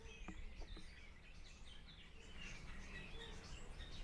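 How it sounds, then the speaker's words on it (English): Birds chirp and call faintly in the distance, several high twittering notes over a steady low background hum. "you'll be able to enjoy the bird sound"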